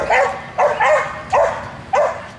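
A Bull Terrier barks four times in short, evenly spaced, loud bursts, close by and with no voice over it.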